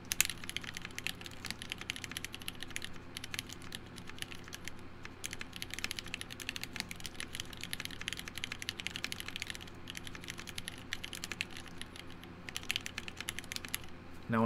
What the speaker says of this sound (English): Now when I type, that's me typing normally, here's me typing hard.